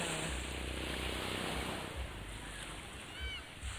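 Sea waves and surf at Dili beach, Barangay Dili, Santa Cruz, Ilocos Sur, with a steady broad wash of water and wind rumble, low thumps from wind on the microphone.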